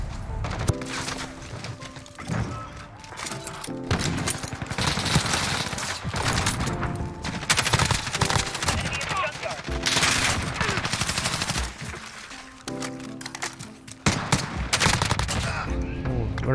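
Bursts of FAL rifle fire in the video game Modern Warfare crack out in rapid volleys through a busy multiplayer firefight. Shots come in clusters with short pauses, loud and close, with faint game voices mixed in.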